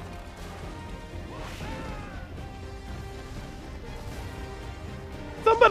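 A glass floor smashes in Assassin's Creed Revelations: a sudden loud shattering crash bursts out at the very end after several seconds of quiet game ambience and faint scattered sounds.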